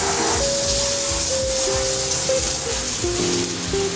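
Water from a shower head on its center spray setting runs in a steady hiss and splatter, close and continuous, with some faint tonal whine underneath.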